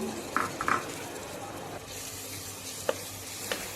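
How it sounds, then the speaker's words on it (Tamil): Onions and garlic fry in a pan for mutton biryani while being stirred, a soft continuous sizzle broken by a few scraping strokes of the spoon against the pan, close up. "நீங்கள் பூண்டு சேர்க்கும் பொழுது கொஞ்சம் அடி பிடிக்கும் அதனால் நமக்கு நல்லா கிண்டி விட்டுக்கணும்"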